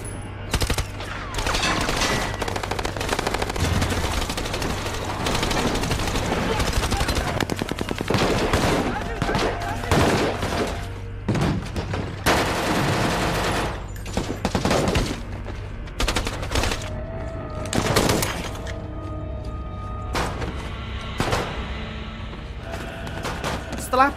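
Heavy automatic gunfire and scattered single shots fill a battle scene from the war film Mosul, loud bursts and volleys recurring across the scene under a low drone, with voices mixed in.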